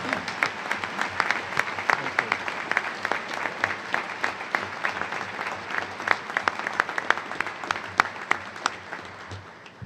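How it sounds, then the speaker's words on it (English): Audience applause at a Naval Postgraduate School winter graduation ceremony, honoring volunteers: steady, dense clapping from a large crowd filling the hall, sustained for the whole stretch and tapering slightly at the end. "Can I have applause, please, for our volunteers for the Center for Homeland Defense and Security?"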